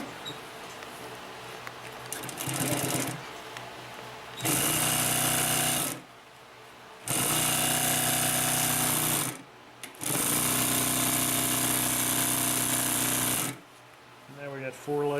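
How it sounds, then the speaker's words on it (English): A Consew P1255RB industrial sewing machine stitches through four layers of material in three loud, steady mechanical runs separated by short pauses, heard close up. "Now we got 4 layers of sewing."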